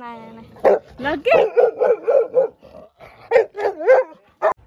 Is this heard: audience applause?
no